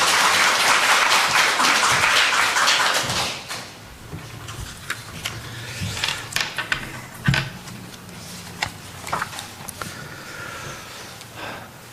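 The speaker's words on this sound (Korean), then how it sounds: "우리가 큰 박수로, 환영의 박수로 한번 하도록 하겠습니다" Church congregation applauding to welcome a visiting pastor at a Presbyterian Sunday service, a loud burst of clapping for about three seconds that stops abruptly, followed by quieter room sounds and shuffling.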